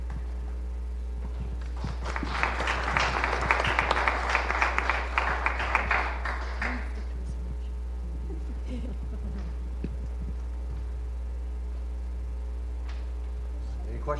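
Audience applause at a 2019 student leadership challenge after a case study group's presentation: a dense burst of clapping that swells for several seconds, then fades into quiet room noise.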